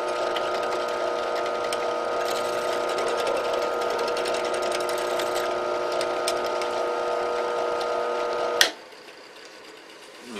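A power tool whines steadily while cleaning out pin and lanyard holes in an AEB-L stainless steel knife blank, a constant motor hum that runs for about eight seconds, then cuts off abruptly, leaving quiet.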